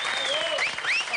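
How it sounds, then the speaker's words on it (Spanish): Brief burst of clapping from a small crowd, with cheering or whistling voices over it. "¡Bravo! Ahí está, aplausos para ella."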